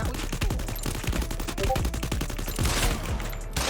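Rapid bursts of gunfire from the mobile battle royale game Free Fire, loud and dense with overlapping shots in a steady stuttering rhythm throughout, no speech.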